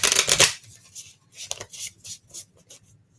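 Tarot cards are shuffled and pulled by hand, a brisk riffling burst at first, then softer intermittent card slides and flicks, close and fairly quiet.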